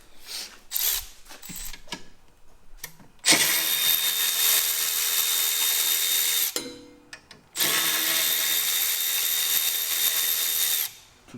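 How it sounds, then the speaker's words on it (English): A power driver fitted with a T25 bit spins out two bolts on a car suspension bracket. Two long, loud, steady whirring bursts come close together, with short clicks and handling noises between them and before them. "You'll take your T25, take the 2 bolts out,"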